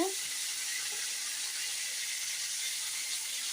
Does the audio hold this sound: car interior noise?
no